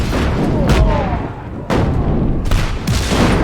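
Grenade blasts in the video game Just Cause 3, a series of loud, booming explosions with sharp onsets and rumbling tails, one after another in quick succession.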